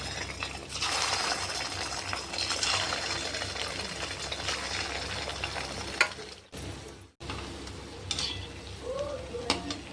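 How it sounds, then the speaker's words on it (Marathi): Medu vada made from semolina being deep-fried in hot oil four at a time, a steady close bubbling sizzle running throughout with a brief clink of utensils and a short dip near the middle. "आता आपण ह्याला चार चार तळून काढूया."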